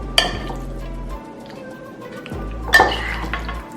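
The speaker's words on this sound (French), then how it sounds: "On mélange bien le tout." An avocado and shrimp salad tossed in a bowl, two bursts of clinking utensil scrapes against the dish separated by a quiet pause, close and moderately loud.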